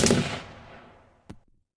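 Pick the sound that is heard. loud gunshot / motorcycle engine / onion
loud gunshot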